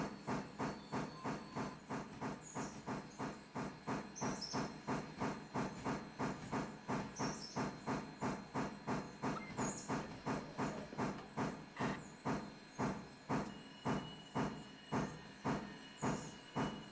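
A steam locomotive in the 1950s U.S. railway video game Railroader chuffs in a steady, fast rhythmic beat with continuous hissing steam, loud and close, with no talk.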